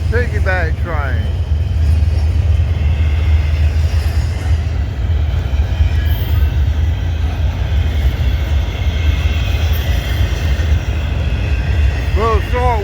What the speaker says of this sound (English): Piggyback train.